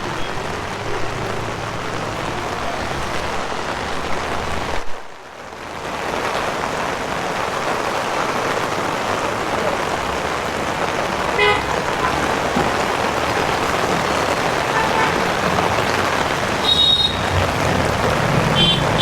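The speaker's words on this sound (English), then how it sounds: "Rain is getting a bit heavy." Heavy rain pours steadily outdoors on a street in Goa, Portugal-era heritage area, with passing road traffic and a car horn toot near the end; a brief dip in the downpour noise midway.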